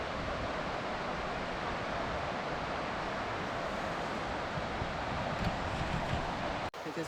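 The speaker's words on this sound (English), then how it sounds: "It's windy." Strong wind roars steadily across the microphone near a waterfall at Glenfinnan, Scotland, a loud broad rushing that covers the whole stretch and drops out for an instant near the end.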